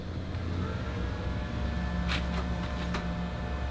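A Concrete Genie floor grinder for glue and mastic removal runs with its counter-rotating heads spinning, giving a steady, loud low motor hum with a few brief higher scraping bursts midway.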